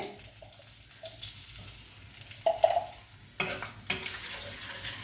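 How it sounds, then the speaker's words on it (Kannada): Black pepper and garlic frying in oil in a pan for lemon rice, a low sizzle broken by a few spatula scrapes and clatters that grow louder toward the end, close by with no speech. "ಇದು ಚೆಂದ ಮಾಡಿ ಪೆಪ್ಪರು ಸ್ವಲ್ಪ ಎಣ್ಣೆಯಲ್ಲಿ ಫ್ರೈ ಆಗಲಿ"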